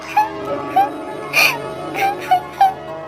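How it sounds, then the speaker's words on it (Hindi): A cartoon girl cries in a Hindi animated story, giving several short whimpering sobs at a steady pace against a soft musical background. No one speaks. "अचानक उसको एक लड़की की रोने की आवाज सुनाई दी।"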